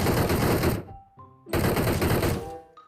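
Two loud bursts of rapid automatic gunfire in the mobile battle-royale game PUBG Mobile, separated by a short gap with faint tonal game sounds, a brief click closing the clip.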